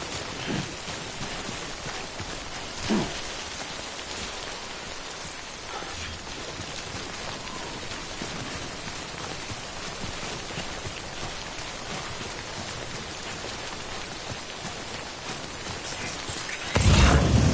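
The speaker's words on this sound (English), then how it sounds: "Remember that prolonged exposure to timefall damages cargo containers. Don't stay out in the rain any longer than you have to." Steady timefall rain falls in the video game Death Stranding, a dense, even hiss of drops hitting the ground throughout, with a few louder splashes and a swell of noise near the end.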